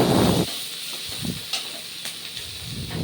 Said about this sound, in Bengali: একটা টমেটো ওর মধ্যে দিয়ে দিতে হবে একটু নাড়াচাড়া করতে হবে